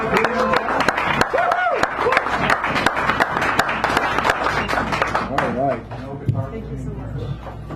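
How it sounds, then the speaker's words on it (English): Audience at a San Francisco cafe poetry reading clapping for a poet coming up to read, a scattered round of applause mixed with people talking over it. "give this person a round of applause as she comes up here"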